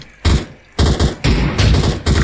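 Gunfire in the PUBG Mobile video game, loud bursts of automatic fire in several separate volleys with short gaps between them, close and heavy.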